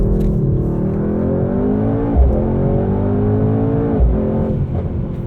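A Mercedes-AMG GT 63 S in race mode downshifts through the gears and then accelerates hard, engine loud and close, with two quick shift blips, no voices.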